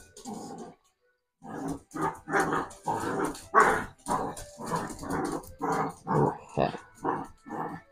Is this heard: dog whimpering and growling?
yes